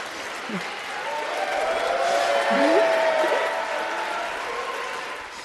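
Applause fills the House chamber for Nancy Pelosi as she calls the House to order, a steady, broad wash of clapping that swells and fades over several seconds, with voices murmuring through it.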